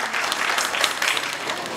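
Loud, dense applause from a kirtan audience honouring the accompanists, a steady wash of many hands clapping close by for the whole stretch with no voices over it.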